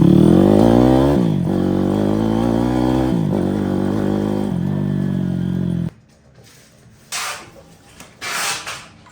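A Delta YX 160 moped engine revs loudly up close, its pitch rising and falling through several throttle blips for about six seconds before cutting off, followed by faint wind and rustling.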